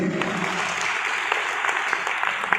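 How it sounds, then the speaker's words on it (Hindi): Steady audience applause at a business plan presentation, many hands clapping densely and evenly throughout, loud and unbroken with no voices standing out. "आप ताली तो ऐसे बजा रहे हैं जैसे मैंने 8 रुपए की बात की हो"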